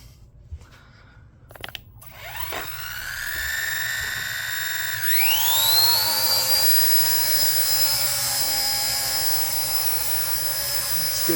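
An RC ERA Huey model helicopter spools up after a few handling clicks, then its electric motor whines into a steady high-pitched rotor hum as it lifts a heavy load, close and loud.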